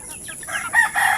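Chickens and chicks at a small poultry farm during feeding give a brief, close burst of clucking and soft calls that rises over a second or so.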